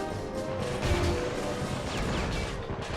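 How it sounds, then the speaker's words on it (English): Bazooka and gunfire in the Army Men war game, a dense, steady wash of crashing blasts and rattling shots that fills the whole stretch with no speech over it. "Oh, it's a bazooka in the bushes."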